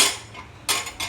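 Metal utensils clink and scrape against a plate as breakfast is served, two or three short, close, clattering bursts.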